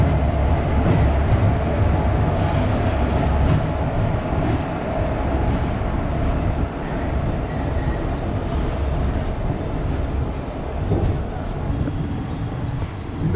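Dhanbad–Alappuzha Express train pulling into a station in monsoon weather, a steady loud rumble of rolling cars and wheels close by, continuous throughout with no talk.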